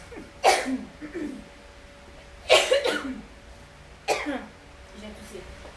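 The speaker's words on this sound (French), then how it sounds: "J'ai toussé." Three loud, sharp human coughs spaced a couple of seconds apart, each with a short rough tail, close to the microphone in an indoor room with no talking.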